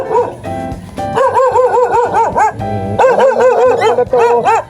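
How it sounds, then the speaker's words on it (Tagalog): A protective mother dog with puppies barks and yelps loudly and close, in rapid, insistent, high-pitched volleys that continue almost without pause. "Yan ang aso kapag ka may anak, matatapang sila."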